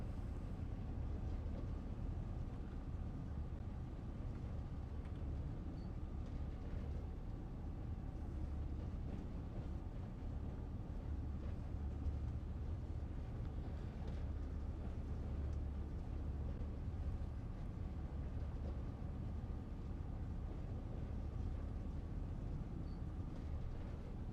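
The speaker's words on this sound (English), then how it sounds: "It's a beautiful sounding locomotive" A locomotive running in the Train Sim World video game, a steady low rumble and drone of engine and rails that holds evenly throughout, with no voices.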